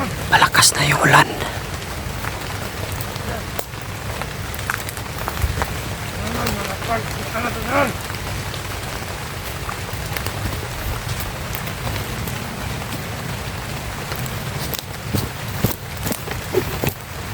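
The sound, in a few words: heavy rain falling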